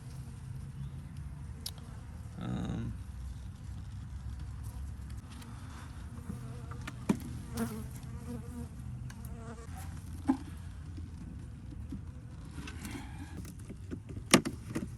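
Honey bees hum in a low, continuous drone around an open hive, close but quiet, with a few faint knocks and clicks over the top.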